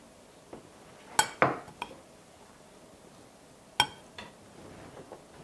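A spoon clinks and scrapes against a bowl while mixing oyster rice with soy sauce, giving a few sharp metallic clinks and soft squishy stirring between quiet pauses.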